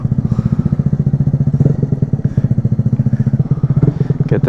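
Harley-Davidson Street Bob motorcycle fitted with a sissy bar, warming up on a cold day: a close, loud, steady lumpy idle with rapid rhythmic thumping pulses throughout.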